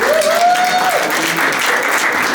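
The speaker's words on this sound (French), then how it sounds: "Est-ce qu'on peut applaudir encore pour Oureille, s'il vous plaît?" A conference audience in Paris applauds, dense clapping filling the clip at a steady level with a brief tonal whine rising near the start.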